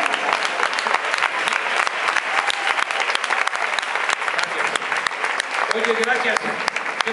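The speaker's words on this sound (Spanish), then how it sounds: "Qué bueno que aplaudiste" Audience applause at a Spanish-language comedy show, a loud sustained crowd clapping that holds steady, with a voice starting over it near the end.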